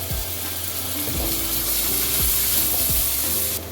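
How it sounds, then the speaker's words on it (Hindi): Onions and garlic-ginger paste frying in a pan for arvi sabzi, a dense steady sizzle with several spoon scrapes and stirs, loud and close with no talking. "जब प्याज लाइट ब्राउन हो जाए तो इसमें 1 टीस्पून लहसुन अदरक पेस्ट वो ऐड करके इसको भून लें।"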